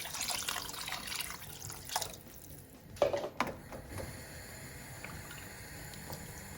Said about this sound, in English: I'm going to add 1 liter of just water